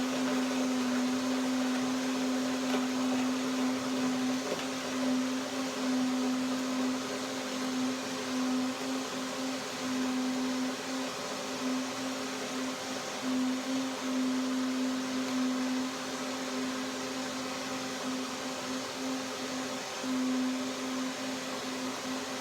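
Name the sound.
blender blending hemp, Brazil nut and cacao drink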